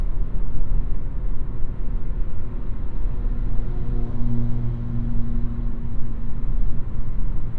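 Steady, loud low rumble of tires and wind inside a 2021 Toyota C-HR cruising at 70 mph, with a faint droning hum and no talking.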